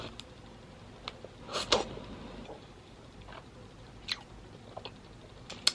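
Someone chews pineapple Hi-Chew candy up close, with soft wet mouth clicks and a few sharper bursts scattered over a quiet, steady background.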